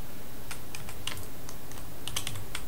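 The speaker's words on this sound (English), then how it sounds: "I am going to type in export site" A computer keyboard clatters as a command is typed, with a run of close, light keystrokes in an uneven rhythm over a steady low hum.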